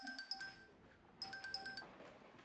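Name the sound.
phone ringing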